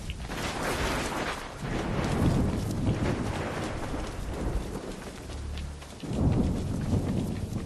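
Heavy rain pours in an Assassin's Creed 3 game world, a dense steady hiss with low rumbling swells like distant thunder, loud and continuous with no voices.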